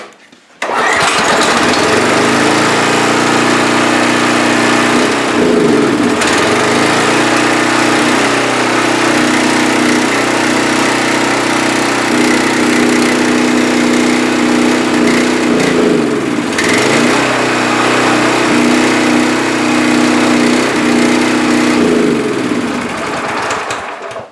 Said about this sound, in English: Well, I'd say it runs.